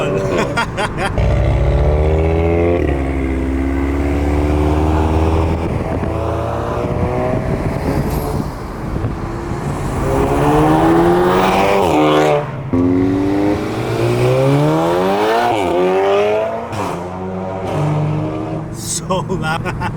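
A 500hp Audi S3 accelerates hard with a loud, rising engine note that climbs through repeated gear pulls across the whole stretch, with people talking over it.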